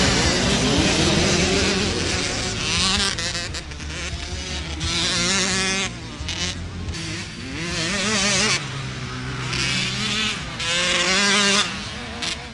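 Motorcycles race at a Latvian motocross meeting in Grobiņa, with engines revving and whining as several bikes pass close and loud, pitches rising and falling through gear changes, and faint voices underneath.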